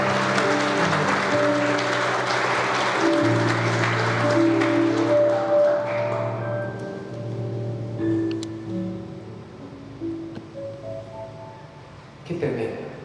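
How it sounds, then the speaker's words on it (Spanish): A church congregation breaks into loud applause that gradually thins out, with sustained music tones underneath and occasional voices. "Den un aplauso gigante."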